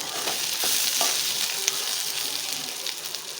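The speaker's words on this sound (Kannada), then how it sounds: "ಎಲ್ಲ ಮಸಾಲೆ ಹಾಕಿ ಹಾಕಿ ಒಂದೊಂದು ನಿಮಿಷ ಫ್ರೈ ಮಾಡ್ಕೊಳ್ಳಿ" Spice masala frying in oil for mutton biryani, a dense continuous sizzle close up with small pops and the occasional scrape of stirring.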